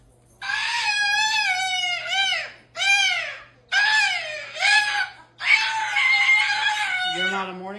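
A pet parrot named Tango lets out loud, harsh screeches in the morning, several long grating calls in a row with short pauses between, close to the listener, with a lower sound at the very end.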